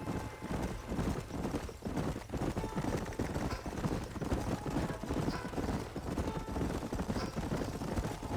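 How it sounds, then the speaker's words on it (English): Horses clip-clop steadily in a Red Dead Redemption Wild West setting, with scattered gunfire in the background and faint voices. "leave the horses here and follow me"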